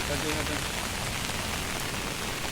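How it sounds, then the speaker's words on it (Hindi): Steady, even hiss of rain falling on surfaces outdoors, dense and continuous with no pauses, fairly close and loud throughout the short stretch. "बारिश अभी भी लगी है गाइस, बारिश लगी रखी है"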